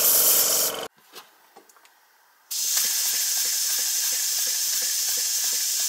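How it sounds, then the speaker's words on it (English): A double Tangye steam mill engine, run with its cylinder drain cocks open, gives a loud continuous hiss of exhaust steam with a faint chuffing pulse, interrupted by a short quiet gap with a few light knocks. "it makes a very pleasant sort of chuffing sound through the exhausts"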